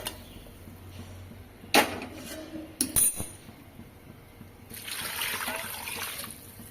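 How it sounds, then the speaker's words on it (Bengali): Water poured into a pressure cooker holding sautéed papaya and potatoes, a few sharp clinks of metal followed by a rushing, splashing pour near the end. "এবার বেশ কিছুটা জল দিয়ে দিয়েছি"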